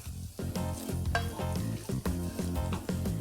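Finely sliced spring onion whites and ginger stir-fried for restaurant-style American chopsuey, with a steady sizzle and stirring, apparently under background music.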